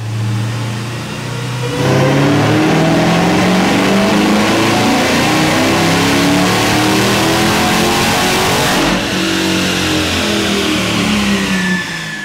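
A Dodge Durango Hellcat running on E85 fuel revs hard on a dyno, its supercharged engine roaring loud and close in a steady climbing pull that holds for about ten seconds before easing off.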